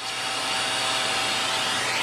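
A household vacuum cleaner runs steadily and loudly, its broadband whine holding constant for the whole stretch with no voices over it.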